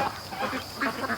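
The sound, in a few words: domestic free-range ducks quacking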